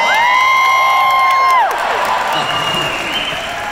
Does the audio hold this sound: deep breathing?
no